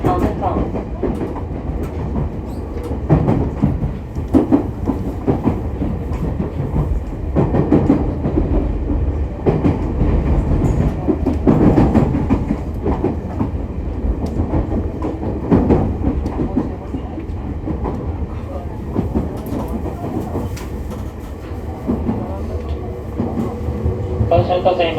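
A JR East E501 series train running on the Joban Line from Mito toward Tokai, with snow causing wheel slip, rumbles loudly and steadily from onboard, with rail clatter and some voices mixed in throughout.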